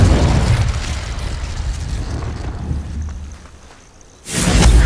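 Confringo fire spell from the video game Hogwarts Legacy, a loud explosive burst followed by a rumbling, fading roar, then a second sharp blast near the end.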